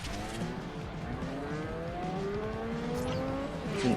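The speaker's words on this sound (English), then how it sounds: "this car revs to 10k because Mazda" A Mazda car engine in the Forza Horizon racing game revs high through the gears, rising engine tones stepping up repeatedly, steady and loud with no talking.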